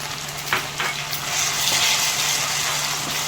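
Ginger-garlic paste frying in a pan for prawn biryani, a steady hiss of sizzling oil with a few soft stirring scrapes, close and moderately quiet, no voices.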